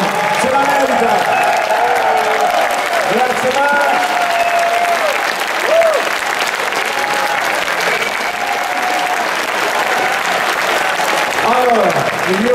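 Sustained applause from a concert audience at the Cortona Mix Festival in Italy, loud and steady throughout, with voices and cheers mixed in and a few tonal calls rising above the clapping.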